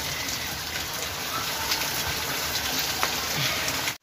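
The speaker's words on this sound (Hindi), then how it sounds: "बारिश इतनी ज़बरदस्त हो गई है" Heavy monsoon rain pours steadily onto rooftops, a dense, even hiss of drops that holds constant throughout and then cuts off abruptly.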